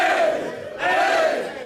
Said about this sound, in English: Royal Crown Wrestling starting up a chant for Colton Charles.